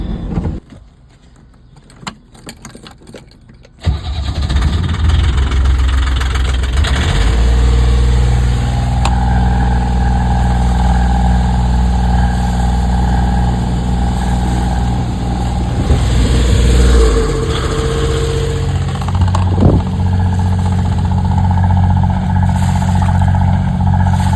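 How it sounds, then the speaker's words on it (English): A boat engine cranks after a quiet, clicking lead-in, catches and settles into a loud, steady idle with a constant low throbbing hum that runs on close by. "I'm going to start the engine up and see if I can start sucking some water overboard."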